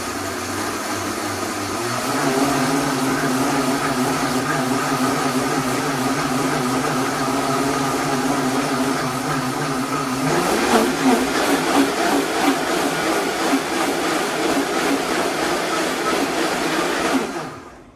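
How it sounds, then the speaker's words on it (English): A high-speed blender whirs loudly and steadily blending quinoa, then its motor pitch climbs sharply partway through before cutting off abruptly at the end. "A high-speed blender is so handy to have."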